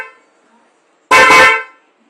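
An upgraded horn on a 2011 Kawasaki Ninja ZX14 motorcycle blasts once, close and loud, a single brassy honk of about half a second after near silence.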